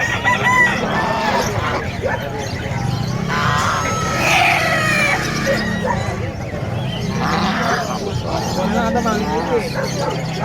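Chickens cluck and a rooster crows amid a busy outdoor pet market mix in Bocaue, Bulacan, with people talking throughout.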